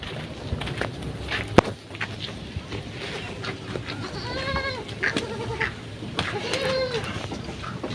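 Goats bleat repeatedly in a farm goat shed, several calls rising over a steady background of shuffling and stable noise, moderately close with no talk.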